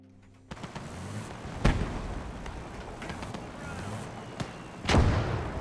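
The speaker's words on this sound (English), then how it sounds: "Am I gonna get killed by a singular mortar?" Mortar fire in the World War II game Gates of Hell: two heavy booms land a few seconds apart over a continuous rumble of battle noise.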